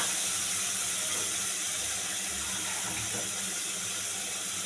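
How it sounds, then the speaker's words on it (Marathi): Water pours steadily and hisses into a pan of tamarind pomfret fish curry, a continuous close splashing rush with no talk. "थोडंसं पाणी अजून घेते"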